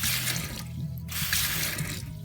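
Water gushes steadily from a repaired kitchen mixer tap, formerly stiff and grating, a close, continuous hissing splash that briefly thins out before surging back.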